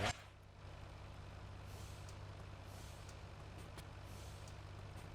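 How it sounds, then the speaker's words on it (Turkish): A Ford F-Max truck in Euro Truck Simulator 2 lets out a sharp air brake hiss at the start, then settles into a low, steady diesel idle hum. "Bu da fren ve şey sesimiz. Bu fren sesimiz."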